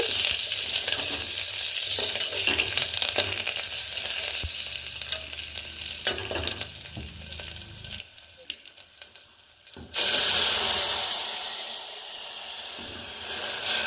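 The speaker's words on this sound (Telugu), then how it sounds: "ఫైనల్గా కొద్దిగా కరివేపాకు అయితే వేద్దాము ఈ పోపులోకి ఇప్పుడు ఇవన్నీ ఒకసారి గరిటతో అయితే తిప్పేసుకున్నాము" Curry leaves and spices for an Andhra-style raw mango and moong dal charu sizzle hard in hot oil as a ladle stirs them. The hiss runs steadily, dips for a moment, then surges back loud and close.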